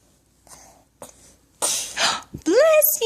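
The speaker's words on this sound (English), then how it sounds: "mommy's gonna sneeze." A toddler of about 16 months makes a string of fake sneezing noises, several short breathy bursts that build to a louder, squealing vocal burst near the end, with an adult voice talking in between.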